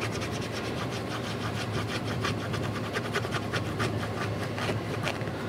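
A penny rubbed hard across a scratch-off card in steady back-and-forth scraping strokes, close and continuous, with a gritty rasping texture and no talking.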